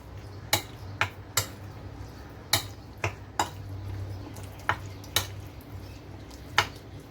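Spoon taps and clicks against a bowl while soy sauce and red chili powder are mixed into chicken pieces for tenders; about ten sharp, separate clinks at an irregular pace over a low steady hum, with no talking.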